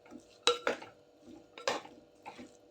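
A spoon stirring sabudana khichdi with potato in a metal pan, with scraping and clinking strokes in quick bursts and short pauses between them, heard close and alone.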